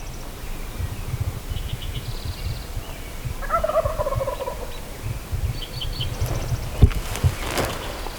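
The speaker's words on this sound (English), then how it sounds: "multiple gobblers right here in this little drainage below us" Wild turkey gobblers sounding from a small drainage below, a faint distant gobble rising midway over outdoor morning ambience with insects and light rustling.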